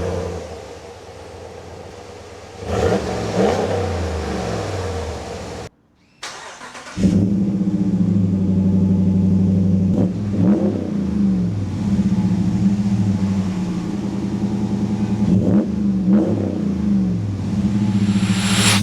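A Ram 1500 pickup's 5.7 Hemi V8 with an aftermarket cat-back exhaust cranks and fires up, then idles with a deep, throaty exhaust rumble, revving up several times.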